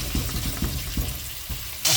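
Flour-coated pieces fry in a pan with a steady hiss, broken by soft low knocks from handling, then a sudden louder burst of sizzle at the end.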